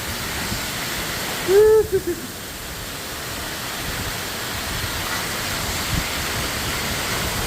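Heavy rain and wind in Mysore make a dense, steady roar close by, with a short whistling tone rising briefly near the start.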